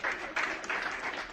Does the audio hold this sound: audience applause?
yes